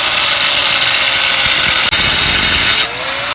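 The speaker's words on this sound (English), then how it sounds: "Next is the concrete cutting blade, which is what they use to cut lines in your driveway" An angle grinder fitted with a concrete cutting blade screams at a steady high pitch at close range, briefly dipping as the blade bites, then winding down near the end.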